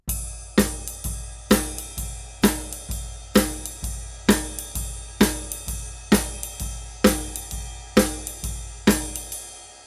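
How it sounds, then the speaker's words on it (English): Jazz shuffle pattern played on a drum kit, with bass drum and snare backbeat on 2 and 4, repeating steadily in a loud, close, even groove without talk. "try to add 2 and 4 in the snare drum to that pattern"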